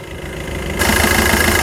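A car engine idles steadily up close, a continuous loud rumble that grows fuller and brighter partway through.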